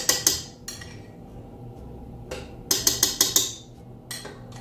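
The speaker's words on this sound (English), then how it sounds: "we're going to spoon this out and just mix it in, basically" Spoon clinks against a bowl while red velvet poke cake filling is scooped out and mixed, in sharp bright bursts, a pair at the start and a quick run of four near the end, close and fairly loud.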